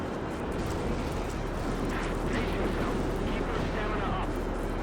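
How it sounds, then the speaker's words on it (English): Gunfire in the video game Valkyria Chronicles, a continuous loud battlefield din of shots and bursts, with a person talking over it. "there's so many gunshots over here"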